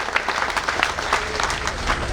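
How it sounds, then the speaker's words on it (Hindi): A crowd at a constitution conference in Bijnor, India claps steadily and densely throughout, a sustained burst of applause filling the room. "एक ताली लगाएं"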